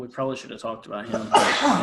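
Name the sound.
sneeze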